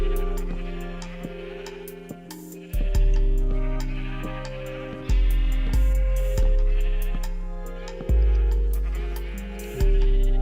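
Sheep bleating in a blocky survival video game, a chorus of loud, close, wavering bleats repeating every couple of seconds, with no talk over them.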